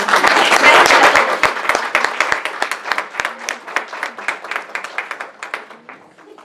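A crowd at a formal government commemoration of the 1917 Constitution applauds: a loud burst of clapping that thins into scattered, rhythmic claps and fades out.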